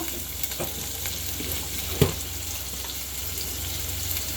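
Ginger, garlic and cumin paste with ground spices fries in a pan, giving a steady soft sizzle with a few light clinks and one sharp tap from stirring, close and continuous with no talking.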